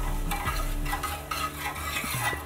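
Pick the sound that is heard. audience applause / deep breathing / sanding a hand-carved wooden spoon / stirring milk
stirring milk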